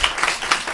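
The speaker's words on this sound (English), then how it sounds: "Go ahead and clap." An audience at a Latinx literary panel claps in a quick, dense burst of overlapping hand claps, close and alone.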